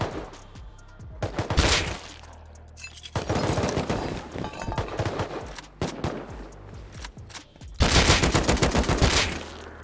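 AK rifle fire in the survival game Rust, with several loud, dense bursts of automatic shots spread across the moment, some of them near and harsh, with brief pauses between volleys.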